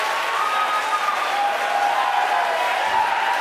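SpaceX team members cheering and applauding at Starlink constellation deployment confirmation, a dense steady wash of clapping and crowd noise sustained throughout, fairly loud and without distinct speech.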